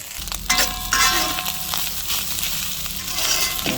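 Scrambled egg stirred into fried rice in a hot pan, crackling and sizzling with scraping stir strokes and a few louder clatters, close up and with no voices.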